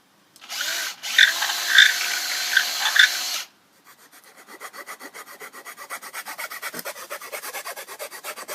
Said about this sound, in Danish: så tager du boremaskinen og borer et hul igennem den her pind her